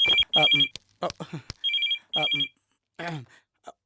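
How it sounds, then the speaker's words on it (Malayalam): A telephone rings in repeated electronic bursts with a trilling tone, pausing between rings, while a person talks over and between them nearby. "എനിക്കുള്ള ഫോണിൽ പ്രത്യേക ബെല്ലാണ്."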